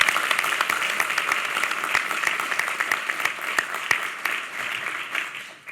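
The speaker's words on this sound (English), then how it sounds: "let's give her a round of applause" An audience at a New York state wine, beer, spirits and cider summit applauds, a full, even roar of many hands clapping that holds steady for several seconds before easing off slightly.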